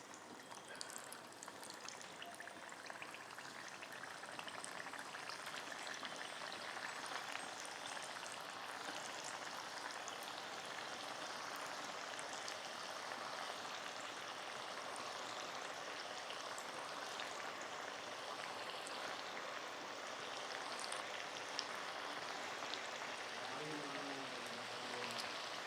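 Kurkure snack dough deep-frying in hot oil gives a steady, even sizzle and bubbling that stays at one level throughout, with no voices over it.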